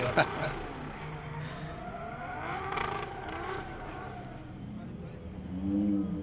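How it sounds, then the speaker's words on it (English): A drift car engine revs hard and bounces off the rev limiter in the burnout box at a drift championship, roaring steadily while a voice talks over it. "I've never heard anyone use the rev limiter so much in the burnout box, Mike."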